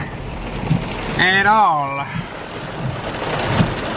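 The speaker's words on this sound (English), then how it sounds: "it started pouring. The damn raindrops are as big as freaking baseballs." Heavy rain with big drops pours down during a road trip near Nashville, a dense, loud wash throughout, while a person briefly speaks and a wavering tonal sound rises and falls in the middle.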